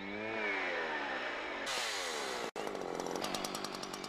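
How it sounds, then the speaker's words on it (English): A Husqvarna chainsaw saws while felling trees, its engine a loud, close, sustained whine that shifts in pitch as it cuts, then briefly drops out before revving on again. "Using the upper edge of the chain, you're sawing with a pushing chain, and the chain pushes the saw towards you."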